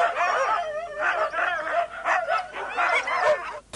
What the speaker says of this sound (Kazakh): Хаски тұқымдас иттер солтүстік өңірден Бурабайға әдейі әкелінген.